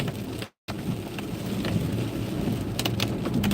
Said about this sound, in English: It's definitely mixed rain and snow down here